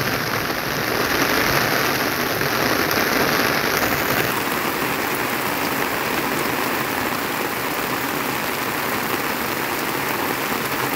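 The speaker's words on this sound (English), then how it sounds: "it's raining heavily, as you can hear" Heavy rain pours down steadily in a dense, unbroken hiss close by, holding an even loudness for the whole stretch with no voices.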